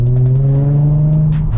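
A Nissan 350Z HR revs hard and blips through downshifts, a loud, close engine note with a strong steady drone and sharp crackling pops recurring throughout.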